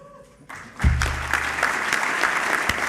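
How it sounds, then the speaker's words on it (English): After a brief quiet moment, a large audience breaks into steady, full applause at an awards ceremony for the Johnny Unitas Golden Arm Award, sustained and fairly loud. "Round of applause for him."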